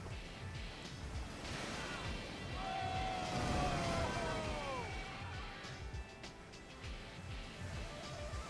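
Big ocean surf and heavy wind at Cape Disappointment roar together as a broad, constant wash, swelling in the middle, with whistling gusts sweeping through.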